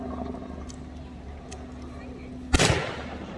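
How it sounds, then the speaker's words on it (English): A single loud, sharp crack from a Lee Enfield No. 4 bolt-action rifle at a heritage demonstration, with a short echoing tail, rising out of a steady background hum and murmur. "in between each shot, as the bolt is worked, the spent rifle cartridge is flying through the air"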